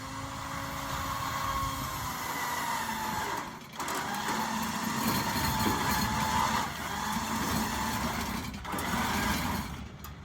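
A truck winch whines steadily as it pulls a load on a ranch, a continuous mechanical motor drone with a couple of brief dips in the hum.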